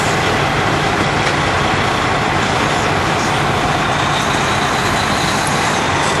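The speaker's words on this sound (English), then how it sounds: "we'll go ahead and put it in very low gear whenever you slide your tandems" A semi truck idles in very low gear with its brakes released while the tandems are being slid, a loud, steady diesel rumble with a broad roar that holds unchanged throughout.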